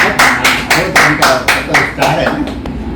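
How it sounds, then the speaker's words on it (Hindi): Audience at a Hindi poetry gathering clapping in unison, a loud rhythmic burst of about ten sharp group claps at a steady beat that gradually loosens and fades. "इसको अब ताली बजाइए।"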